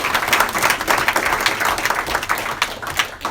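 A church congregation breaks into loud, sustained applause at a pastor appreciation service, with dense overlapping claps continuing throughout.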